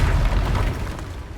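Confringo fire spell explosion from a Harry Potter video game during combat: a heavy low boom that sustains and rumbles for over a second before slowly fading, with no talk over it.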